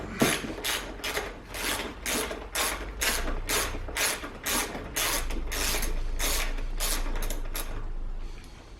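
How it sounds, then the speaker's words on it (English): A wrench ratchets steadily while loosening subframe bolts on a 2017 KTM 250 EXC dirt bike, a close, loud series of rapid clicking strokes repeated in even bursts with no talk. "loosen the upper subframe bolts and take out the lower ones"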